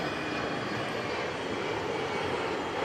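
An airplane at London City Airport roars with a steady, loud broadband engine rush that fills the whole span without a break, heard close and alone.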